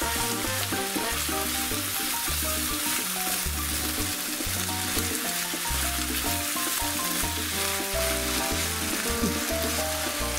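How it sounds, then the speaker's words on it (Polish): Meat frying in a pan with black pepper and paprika, a loud steady sizzle running unbroken throughout, close up and with no voices. "Smaż jeszcze 2-3 minuty."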